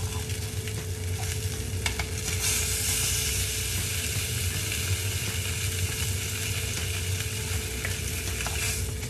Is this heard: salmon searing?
yes